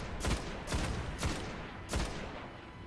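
Gunfire from a gun in the Destiny video game, four loud, sharp shots spaced unevenly about half a second apart, each with a short ringing tail, close and without talk.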